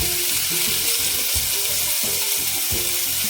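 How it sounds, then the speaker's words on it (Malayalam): Capsicum thoran with onion and green chilli sizzling loudly in a pan, a continuous close frying hiss with repeated scraping stir strokes beneath it and no voices. "നന്നായിട്ട് ഇളക്കണം, അല്ലെങ്കിൽ അടി പിടിക്കും."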